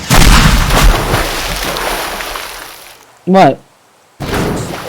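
A rocket blast in the destruction game Teardown opens with a loud, rumbling burst that slowly fades. A voice briefly exclaims, then more crashing debris noise returns.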